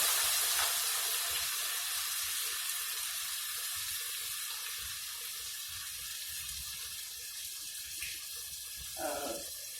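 A steady stream of water, a cupful, pours and hisses into a cooking pot, continuous and close, ending with a faint clink.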